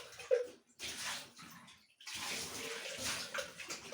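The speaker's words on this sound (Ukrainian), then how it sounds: "Полощимо нашу колбу." A plastic water filter housing is rinsed under a running tap during a filter change. Water gushes and splashes close by in uneven bursts, with a brief pause before the flow resumes.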